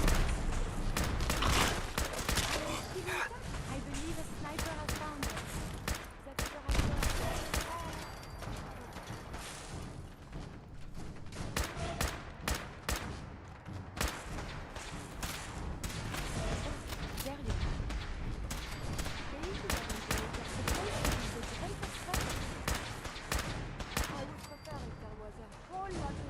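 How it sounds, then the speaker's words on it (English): Sniper and other gunfire in the Fallout 4 video game, sharp shots cracking in dense, rapid bursts across a busy battle soundscape, with a player talking over the action throughout. "I believe a sniper has found us."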